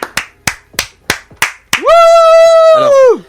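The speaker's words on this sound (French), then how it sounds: "il est en train d'applaudir les mains et pas autre chose" One person claps hands in a radio studio, six sharp, evenly spaced claps close to the microphone, followed by a long sustained sung or whooped vocal note.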